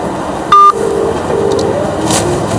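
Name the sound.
telephone dialing tones while calling a pharma trader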